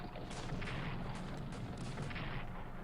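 Artillery fire in the World War I strategy game Strategic Command: a series of about six or seven sharp booming shots in quick irregular succession, each with a bright crack over a heavy low rumble, fairly loud and alone.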